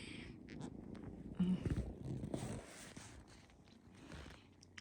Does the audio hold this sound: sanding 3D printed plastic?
no